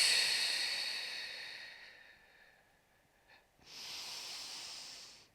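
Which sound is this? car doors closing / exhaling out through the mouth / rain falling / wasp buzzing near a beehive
exhaling out through the mouth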